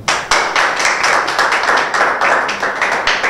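Audience clapping at a rap battle event, close and fairly loud, with distinct individual claps in a quick irregular rhythm rather than a dense roar.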